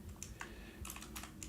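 Quick bursts of computer keyboard typing come in irregular clusters, close and fairly quiet, with short pauses between runs of keystrokes and a low hum underneath.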